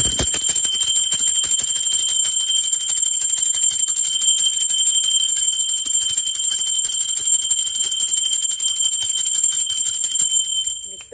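A bell rings loud and close for about ten seconds, with bright, sustained tones over a fast shimmering pulse, then stops abruptly.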